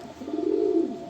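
Johnson bloodline pigeons in a loft cooing once, a short low throaty coo rising and fading over about a second, close and clear.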